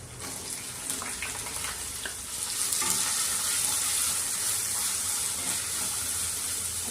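Chopped onion sizzles in hot oil with mustard seeds, cumin, curry leaves and green chilli for poha, a steady close hiss that grows louder and denser partway through as ingredients hit the pan, with no voices.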